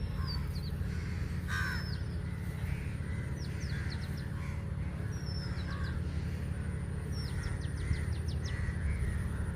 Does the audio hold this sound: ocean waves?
no